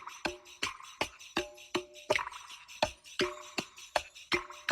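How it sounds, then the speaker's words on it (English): A dry, looping Latin percussion groove of sharp hand-drum slaps and ringing tones, repeating in a steady syncopated rhythm, close and clear with no voices or effects. "No effects were added to that percussion loop."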